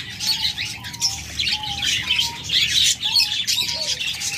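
Pet lovebirds, including albino and lutino birds, squawk and chirp in a loud, busy chorus, sharp repeated calls overlapping nearby with occasional wing flutters.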